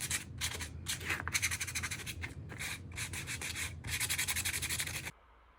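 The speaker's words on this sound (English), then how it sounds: "I'm just sanding around the edges of the word and taking off the paint just around the edges and the sides." Sandpaper rubbing paint off the edges and sides of a wooden word decoration, a loud, close scratchy sanding in rapid back-and-forth bursts that stops abruptly near the end.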